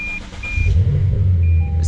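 A Lexus RC F engine rumbles low and steady as the car tries to move, the sound swelling after a quieter start and holding a deep, close drone with a faint high whine above it.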